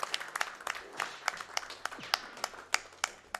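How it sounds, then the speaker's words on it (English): Scattered, sparse hand claps from a small audience, sharp and irregular, fairly faint, with light room noise between them. "Applause for Charles Barkley"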